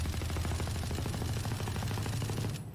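Rapid automatic gunfire from a weapon shot while crouched in a first-person shooter game, a steady stream of closely spaced shots, loud and close, running without a break for nearly three seconds before cutting off.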